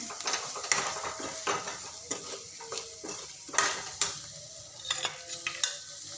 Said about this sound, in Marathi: तर आता मी वांगे सोडणार आहे त्याला छान असं मस्त मसाला मिक्स करून घ्यायचं